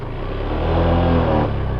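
A motorcycle engine, freshly tuned after a valve clearance adjustment, revs up briefly and falls back, a short, loud rise and drop in pitch.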